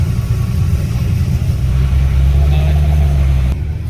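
An S14 drift car with a VQ engine swap, full cage and tube front, idles loudly while backing up, a steady close low rumble with a slight rise in revs before cutting off near the end.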